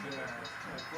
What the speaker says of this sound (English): Here's a run by of the rest of the train.